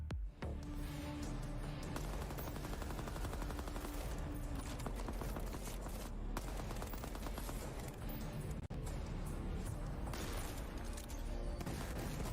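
Continuous dense gunfire rattles in the Deadrop video game, rapid automatic bursts and booms layered over a loud game soundtrack with no pauses, apart from one brief dropout.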